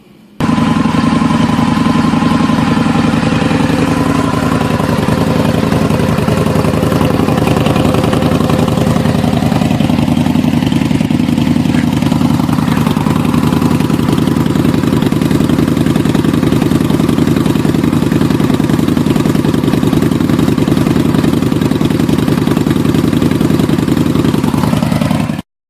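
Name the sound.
motorcycle idling with Bassani Road Rage 2 quiet baffle exhaust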